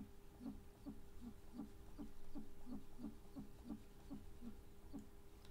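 Birds hooting in a window-cleaning video game, a regular series of soft, low hoots repeating about twice per second over a dim background hum.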